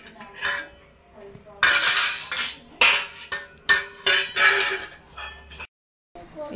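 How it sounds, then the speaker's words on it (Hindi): A child plays with kitchen pots and utensils, producing irregular, close metallic clanks and clinks in quick bursts, with a brief silence near the end and a few voices mixed in. "बर्तनों से खेला"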